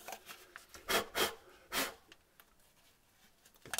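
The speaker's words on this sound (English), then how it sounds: "I want to clean off those burrs." Burrs are rubbed off a pipe while a garbage disposal is installed, making a few close, raspy scraping strokes in quick succession followed by quieter fumbling, with no talking.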